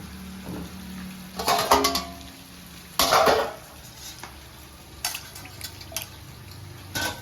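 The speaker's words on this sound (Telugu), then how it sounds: "పులుసు కాబట్టి ఎక్కువ నీళ్లు పోసుకోవాలండి." Water is poured into a pot of Andhra country chicken curry, two short splashing pours followed by lighter drips and stirring clinks, close by and otherwise quiet.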